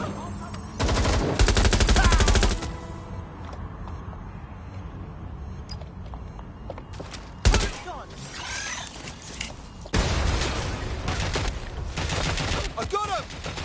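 Bursts of automatic gunfire in Watch Dogs Legion ring out in loud volleys, strongest at the start and returning around the middle and end, with a character's voice talking over the combat.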